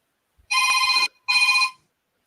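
A telephone rings twice, two clear electronic bursts separated by a short gap, close and loud with no talk.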